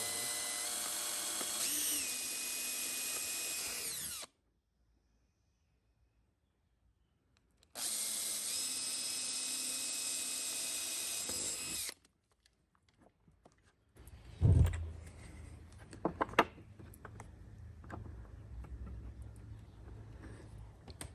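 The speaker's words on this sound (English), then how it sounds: "I'm going to go ahead and drill some pilot." A power drill whirs steadily in two long bursts drilling pilot holes for an exterior door knob and deadbolt, separated by a pause, followed by softer handling clatter and knocks.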